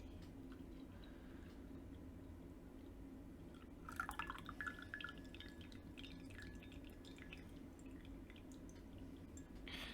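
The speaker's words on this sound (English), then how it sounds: "then you can pour the tea." A brief trickle of Genmaicha green tea pouring into a cup around the middle, over a steady low background hum, then settling back to quiet.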